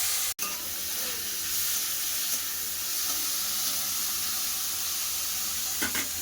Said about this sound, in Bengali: বিটগুলো ছেড়ে দিলাম